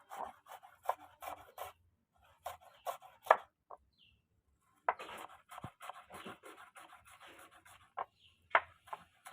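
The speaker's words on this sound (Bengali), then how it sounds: "দেখে নাও বন্ধুরা কিভাবে আমরা পেঁয়াজটাকে কেটে নিচ্ছি" A knife chops an onion on a board, turning it from all sides to mince it fine for momo filling. Short close bursts of cutting strokes come in irregular runs separated by brief pauses.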